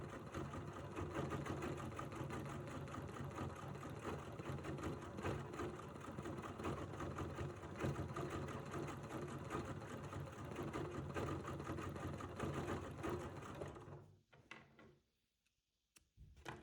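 A sewing machine couches fibers in a rapid, steady stitching whir that runs for about fourteen seconds, then stops abruptly, leaving near silence with a few small clicks.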